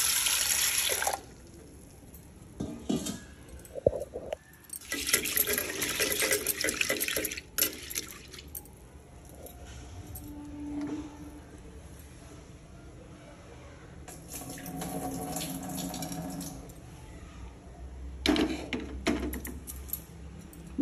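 Toor dal and chana dal, with a few fenugreek seeds, washed in water: splashing and swishing in bursts with running-tap sounds between quieter pauses, up close, and a voice talking faintly now and then.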